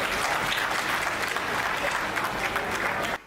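An audience at a Hindi comedy and poetry stage show breaks into loud, dense, sustained applause that fills the hall and then cuts off abruptly.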